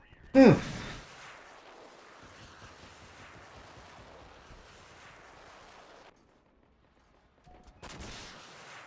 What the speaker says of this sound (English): We've got dedicated artillery.